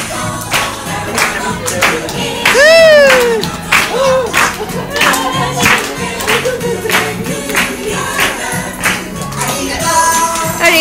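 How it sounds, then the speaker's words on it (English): Crowd clapping hands along at a Tokyo Disneyland show, a steady rhythmic patter mixed with singing, cheering and lively show music, while a voice nearby talks. "Clap your hands!"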